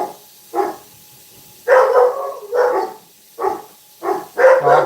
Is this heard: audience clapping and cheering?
no